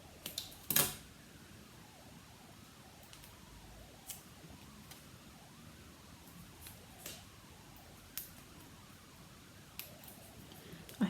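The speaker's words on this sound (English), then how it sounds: "I'm just going to snip a little bit off because they're a bit longer than I want them to be." Scissors snipping craft pieces for a snow-themed project, a handful of faint, crisp single snips spaced irregularly over a quiet room background.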